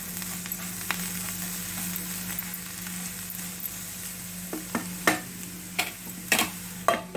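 Cabbage and potato pieces are tossed with turmeric and salt in a pan on the stove, producing a steady low sizzle with scattered scraping stir clicks that grow more frequent and louder toward the end.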